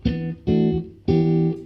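Three soft guitar chords fingerpicked with classical technique, evenly spaced, each ringing briefly before the next; close and mellow, no voices.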